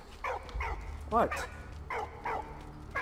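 In the video game Valiant Hearts: The Great War, a puppy gives several short, sharp yips and barks in a loose rhythm. Someone talks briefly between them.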